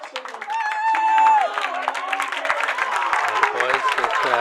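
Applause from a crowd at a high school bowling tournament awards, steady clapping that rises and holds across the moment, with voices and chatter mixed underneath.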